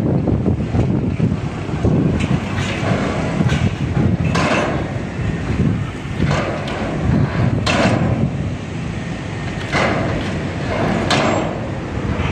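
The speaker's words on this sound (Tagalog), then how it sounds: "Ang hangin dito." Steady wind buffeting the microphone with broadband rumble, plus a few sharp knocks and rattles scattered throughout; no voices.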